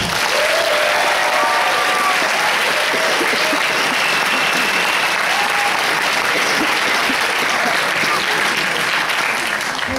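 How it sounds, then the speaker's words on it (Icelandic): Audience at the Músíktilraunir band competition finals applauding for musicians, a loud, steady roar of many hands clapping throughout, with a few whoops and crowd noise mixed in. "Eigum við ekki að gefa þeim gott klapp?"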